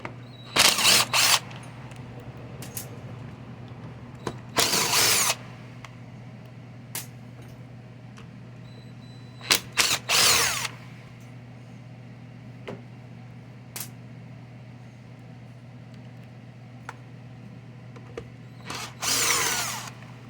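A power driver backs Allen screws out of the recoil housing on a Husqvarna 125B leaf blower, heard as four short, close whirring bursts separated by quiet pauses, with faint handling clicks and no talking.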